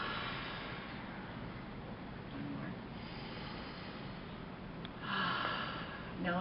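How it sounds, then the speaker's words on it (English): A group of people drawing slow, deep breaths together in a training session, airy inhales and exhales rising and falling over several seconds, with a louder breath swell near the end. "let's just take 3 deep breaths again"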